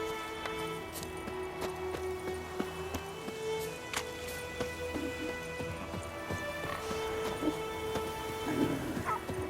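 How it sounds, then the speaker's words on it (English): Rain and thunder in the video game The Witcher 3, a steady wash of rainfall with low rumbling, faint clip-clop of hooves and occasional sharper cracks layered over game music tones. "It's raining and pouring"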